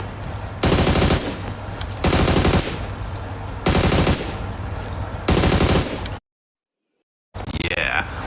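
An AUG rifle fitted with an ergonomic grip fires in PUBG Mobile in four sharp, rapid full-auto bursts, each roughly half a second long and evenly spaced, followed by a brief silent gap.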